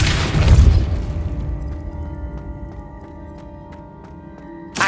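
A spell cast in the Hogwarts Legacy video game lands as a heavy booming impact that decays into a ringing, humming tail, with a fresh hit starting at the end.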